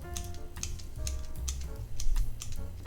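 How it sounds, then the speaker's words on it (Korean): Asparagus skin is scraped off with a vegetable peeler, giving quick, light, repeated scratchy strokes in an irregular rhythm, close but faint, with no talking. "살짝만 필러를 이용해서 껍질을 제거해 주시면 됩니다"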